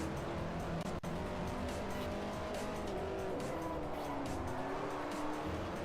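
A race car in Forza Motorsport 4 drives hard with a steady, loud engine drone and tire noise, its pitch rising and falling through gear changes without a break.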